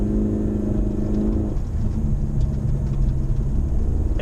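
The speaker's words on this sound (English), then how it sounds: "I love cold starts when there's a bunch of snow outside" Honda Type R car engine on a cold start in snowy weather, with a loud, steady low rumble at a fast idle that drops slightly partway through, close by and with no voices.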